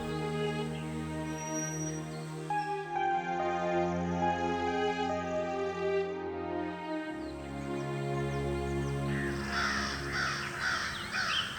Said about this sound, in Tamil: வீட்டு பக்கத்துல இருக்கிற மரக்கிளைகள்ல வழக்கம் போல வந்து இறங்கின காக்காங்களோட கூட்டம்